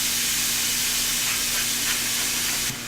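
Thin beef strips sear in a very hot pan as a loud, steady sizzle and hiss that fills the whole stretch, cutting off near the end.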